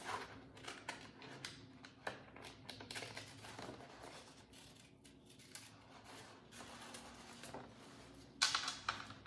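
Paper design sheet being cut apart with scissors at close range, a steady run of small snipping and rustling sounds with soft handling noise, no one talking.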